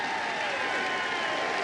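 Golf gallery at the 2008 US Open applauding Tiger Woods, a steady wash of clapping and crowd noise throughout, fairly loud and unbroken.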